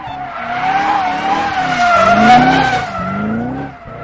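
A 725-horsepower Shelby GT500 Super Snake engine roars and whines loudly and continuously, pitch rising and falling with tire squeal, sustained with no talking.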